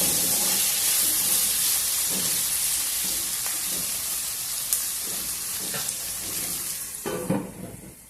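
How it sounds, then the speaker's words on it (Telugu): Onion, potato and tomato pieces fry in a pan for poha upma, giving a steady, close hiss and sizzle with occasional soft stirring clinks, and no talk over it. "టమోటా ముక్కలు వేగేలాగా ఉల్లిపాయ ముక్కలు, ఈ ఆలుగడ్డ ముక్కలు కూడా ఇంకా కొంచెం మెత్తబడతాయి"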